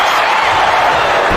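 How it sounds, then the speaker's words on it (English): Arena crowd at a Jey Uso versus Jimmy Uso singles wrestling match, a loud sustained roar of cheering and whooping filling the space, steady throughout with a thump near the end. "the crowd cheering for Jey Uso here tonight"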